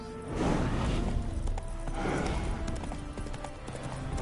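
Horse hooves clop in a steady, fast galloping rhythm throughout, with rushing wind and gear noise in The Witcher 3: Wild Hunt – Hearts of Stone.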